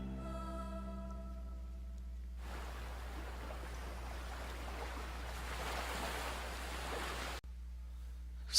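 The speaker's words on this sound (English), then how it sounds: "I heard the sound of waves crashing against the shore." Soft, continuous waves washing against a shore in the visual novel Dies Irae, a gentle hissing surf that fades in after a low musical tone and cuts off abruptly near the end.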